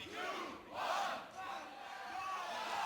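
A live crowd at a 2018 beatbox showcase battle semi-final roars and cheers loudly in sustained waves, with shouts rising and falling over about three seconds.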